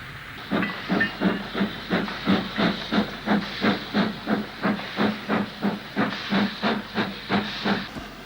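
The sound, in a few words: steam locomotive 75037 moving over points at Tebay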